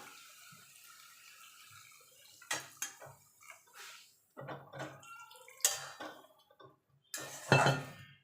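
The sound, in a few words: milk being poured into pan of carrot halwa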